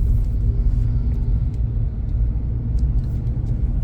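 Inside a Kia Carens on the move, a steady low road and engine rumble fills the cabin, constant and fairly loud, with faint ticks and no talking.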